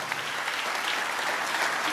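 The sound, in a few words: church congregation clapping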